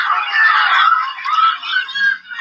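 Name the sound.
people yelling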